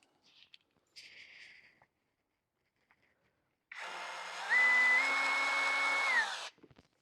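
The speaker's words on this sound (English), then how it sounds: "All right, switch driver, Torx bit, screws." An electric screwdriver with a Torx bit on a low speed setting drives screws into a Landroid mower's blade mount, a close steady motor whine running about three seconds and rising briefly in pitch, after a few soft handling clicks.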